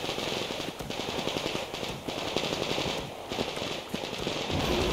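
Rapid automatic gunfire in the video game Metro Exodus rattles in dense, loud bursts with short pauses between them, close and continuous.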